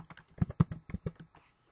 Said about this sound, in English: I know my typing is coming through really loud and clear.